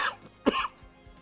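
A person gives a short pair of coughs, close and fairly quiet, with no speech around them.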